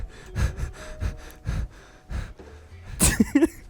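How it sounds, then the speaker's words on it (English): Heavy, rhythmic breaths huff close to the mic, several deep inhales and exhales, ending in a burst of noisy gasping. "Why are you breathing so much"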